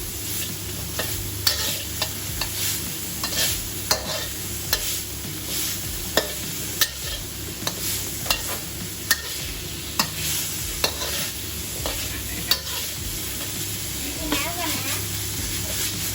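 Minced pork is stir-fried in a pan, sizzling steadily under regular sharp scraping strokes of a spatula every second or so, with a faint voice in the background.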